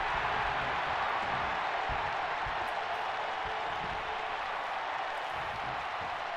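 A wrestling arena crowd in a video game roars in a steady, dense wash of cheering and applause that holds throughout without clear talk.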